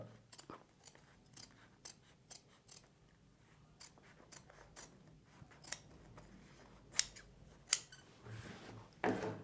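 Scissors snip through canvas being cut for a blouse neck, giving a series of short, quiet, irregular cuts with brief pauses and a few sharper clicks near the end. No one speaks.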